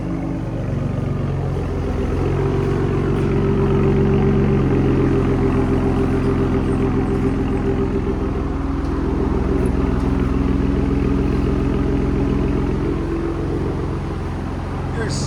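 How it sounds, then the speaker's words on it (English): A 2019 Ford Raptor's 3.5L twin-turbo V6 running through an X-pipe and Borla Attack mufflers with true dual exhaust, a loud, deep idling rumble that swells slightly before settling, with people talking over it. "Ford Raptor with X pipe and BORLA attack mufflers, True Duals"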